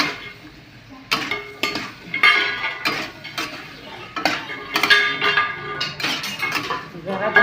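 Dry brinjal curry stirred in a metal pan, with repeated close clinks and scrapes of a spoon against the pan in uneven bursts, fairly loud and without talk.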